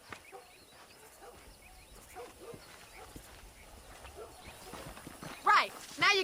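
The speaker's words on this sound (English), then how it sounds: "Let's see if we can't wrangle some horses." Horse hooves clop in a steady, rapid rhythm in the Western video game Red Dead Redemption during horse wrangling, with louder bursts near the end.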